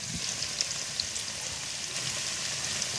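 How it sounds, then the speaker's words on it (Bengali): Potatoes with turmeric fry gently over low heat for a chicken dish, a soft, steady sizzle with faint crackles and pops that continues quietly throughout, with no talking. "একটু আস্তে আস্তে জাল দিয়ে ভাজবো যাতে আলুটা গলে যায়।"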